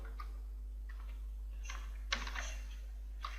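Scattered, faint keystrokes on a computer keyboard: a few isolated clicks and a short burst of taps over a low steady hum, with no talking.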